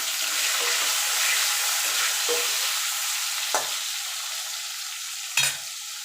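A medium tomato frying in hot oil, a continuous hissing sizzle with a few scraping stirs and a sharper clatter near the end.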